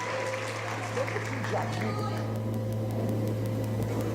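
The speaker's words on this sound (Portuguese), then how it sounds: "aplaudindo a Jesus, porque Ele é bom." A church congregation applauds during a Portuguese-language worship service, producing steady, dense clapping over a constant low electrical hum, with some voices mixed in.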